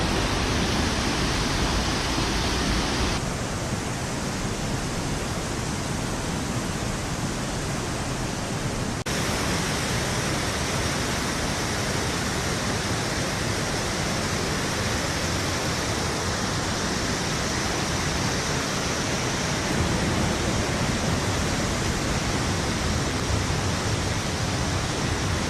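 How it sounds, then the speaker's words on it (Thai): A steady, dense roar of a waterfall in New Zealand, loud and unbroken throughout, with no voices. "ถึงจุดชมวิวน้ำตกแล้วค่ะ"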